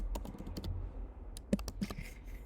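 Text being typed on a computer keyboard while working in a photo editor, giving a run of quick, close, fairly soft key clicks in an uneven rhythm with brief gaps between bursts.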